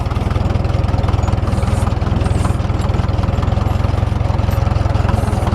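Allis-Chalmers 170 tractor engine running steadily while scraping snow outdoors, a loud, even, low-pitched throbbing drone that continues without a break.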